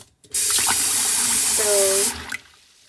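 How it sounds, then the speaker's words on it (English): Rice being rinsed under a running kitchen tap: a steady, loud rush of water into the bowl for about two seconds, with light clinks, then the flow cuts off. "So right now we're just cleaning the rice."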